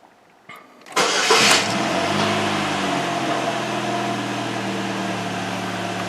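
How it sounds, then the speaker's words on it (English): A GM Ecotec 2.2L engine cranks briefly and catches, then settles into a steady close idle that runs on evenly. "so before we start this engine"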